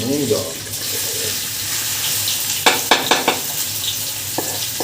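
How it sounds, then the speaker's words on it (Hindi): Onions are tipped into hot ghee for a chicken biryani and fry with a continuous crackling sizzle, while a spoon clinks against the pan in a quick run of knocks. "घी गर्म हो गया है, तब प्याज डालेंगे इसमें।"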